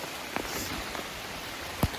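Rain falling steadily during a solo bicycle tour along the French Atlantic coast, a soft faint wash with a few scattered louder drops, one sharper close tap near the end.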